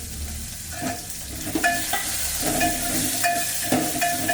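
Tomato, ginger, garlic and green chili fry in a pan with browned onion, a steady loud sizzle broken by repeated scraping stirs of a spoon, with no voices.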